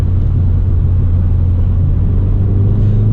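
2016 Ford Fiesta ST turbo engine accelerating hard, a loud, steady low engine drone and rumble running throughout, heard alone without any voices.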